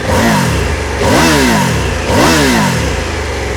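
Up close, the three-cylinder engine of a Triumph Tiger 900 Rally Pro motorcycle revs sharply three times in a row, each blip rising quickly then dropping back, loud and alone.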